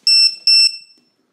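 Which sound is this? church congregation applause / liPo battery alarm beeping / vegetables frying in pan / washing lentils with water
liPo battery alarm beeping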